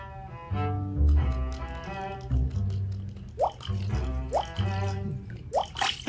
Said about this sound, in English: But I've got to stop that dripping.